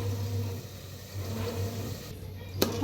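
A kitchen mixer grinder whirs steadily as it blends tomato, peanuts and coriander without water, giving a continuous low motor hum that ends with a brief sharp click.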